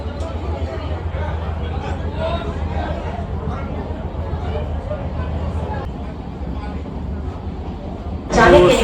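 A Sealdah–Ranaghat AC local train rolls along with a steady low rumble as passengers chatter all around inside the carriage, and a sudden louder burst of noise comes right at the end.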